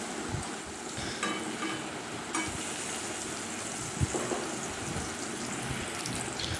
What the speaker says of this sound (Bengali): আমি এখানে সমস্ত পটলগুলোকে ভেজে নেবো